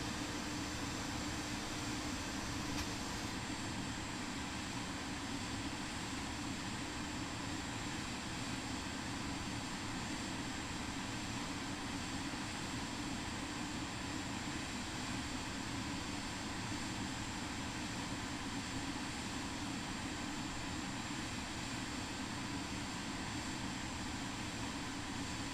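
Steady, continuous drone of a plane's engine in Flight Simulator 2024, a constant broadband hum with low rumble holding evenly throughout, heard alone without voices.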